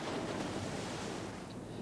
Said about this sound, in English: currents and waves are continually reshaping the coastline